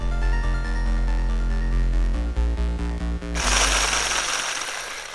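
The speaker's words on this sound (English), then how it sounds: "and make a bunch of loud noise while whisking it" A metal whisk beats liquid glycerin soap base in a bowl, making a loud, rapid, clattering rasp for the last couple of seconds after music plays alone.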